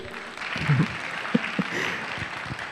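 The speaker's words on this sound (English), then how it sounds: "Give applause to Liz." A seminar audience gives a modest round of applause, fairly faint and diffuse in a large room, with a few louder nearby claps and thumps.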